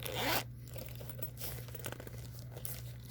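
The zipper on the carrying case of a Tecsun PL-990x radio gives a quick close, rasping pull, followed by soft fabric crinkling and rustling, quiet and with no talking.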